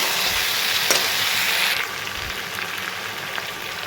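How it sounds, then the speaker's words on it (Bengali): Chicken kosha sizzling loudly in a frying pan, a steady hiss that drops abruptly as turmeric water is poured in, then settles into a softer, bubbling simmer. "তো চলো এখন আমি হলুদ জলটা দিয়ে দেবো"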